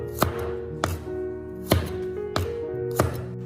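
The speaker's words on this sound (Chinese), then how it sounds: "准备一小把的大蒜，大一点的切成2瓣。" A knife chops garlic cloves on a board, cutting larger cloves in half: five sharp, evenly spaced thuds, close and clear, with no talk.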